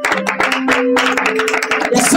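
Church congregation clapping in steady rhythmic beats through a worship service, with singing or voices carrying along underneath throughout.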